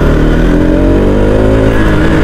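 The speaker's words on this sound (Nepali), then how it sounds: "अहिले चाहिँ हामी सभा सडकमा कुदिरहेछौँ" A Bajaj Pulsar NS200 motorcycle rides along a road with a loud, continuous engine drone and road and wind rush, heard close up and unbroken.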